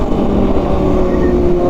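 A Kawasaki Z900 motorcycle engine roaring loud and close in a steady sustained drone, with no pause and no talk.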